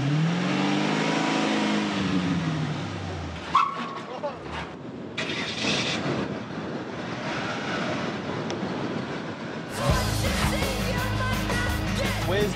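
Holden ute engine rumbling and revving, audible under talking for most of the clip, then a louder, rougher burst of engine noise near the end.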